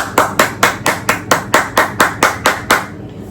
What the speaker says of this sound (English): One more final round of applause for everybody